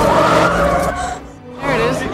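A truck skids past at close range with a loud tire squeal and engine roar that fades, then a second screech rises near the end, dramatic movie-trailer mix with voices underneath.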